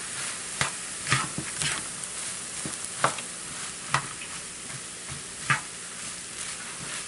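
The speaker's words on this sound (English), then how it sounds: "And I'm thoroughly mixing it" Fried rice with chicken and vegetables in extra virgin olive oil stirred in a pan, a steady sizzle under repeated scraping and clacking strokes of the utensil, close and fairly loud.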